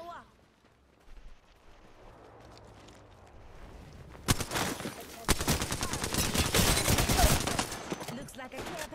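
Gravity cannon gunfire in a video game battle: quiet, muffled activity at first, then a sudden dense volley of sharp, rapid shots and bursts continuing loudly to the end.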